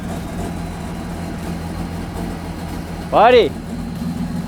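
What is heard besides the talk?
diesel car engine running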